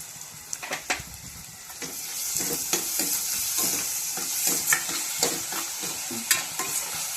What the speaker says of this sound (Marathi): कांदा आपला छान सोनेरी रंगावर परतून घेतलाय मी।